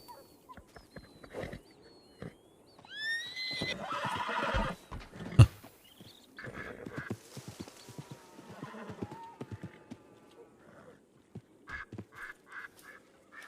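In a video game a rider calls a horse, which answers with several whinnies and neighs over clip-clopping hooves and scattered ambient game sounds, with some quacking nearby.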